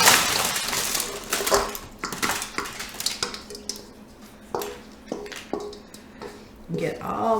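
Homemade croutons tipped back into a pan, giving a burst of dry clattering and scraping against the metal, with a few sharp knocks in between under nearby talk.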